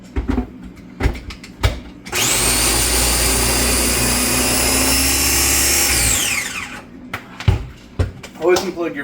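A food processor whirs loudly and steadily for about four seconds while a carrot meal is prepared, with kitchen clatter and thumps before and after the run.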